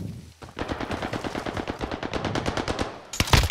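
Rapid machine gun bursts in the video game Warzone, a dense run of sharp evenly spaced shots lasting several seconds, loud and close, ending in a harsher burst.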